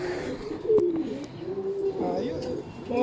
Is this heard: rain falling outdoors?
no